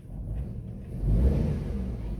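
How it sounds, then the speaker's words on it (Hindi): A Maruti WagonR's engine, heard from inside the car, revs up briefly during light acceleration, a low rumble swelling midway and settling back to a steady idle-like hum. "ये मैं थोड़ा सा एक्सेलरेट कर रहा हूँ,"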